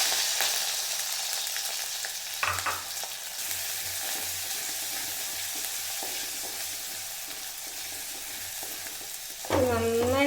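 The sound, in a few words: ginger, garlic, shallots and green chilies sautéing in pan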